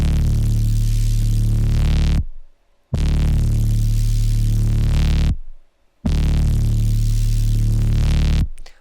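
Aggressive synthesized sound design in the style of Mick Gordon's DOOM work, processed with OTT compression and the Maximus limiter, plays as three loud, thick sustained bursts of roughly two and a half seconds, each separated by a short gap of silence.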